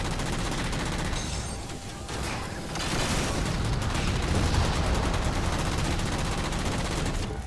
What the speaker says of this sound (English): Now I'm taking fire from these guys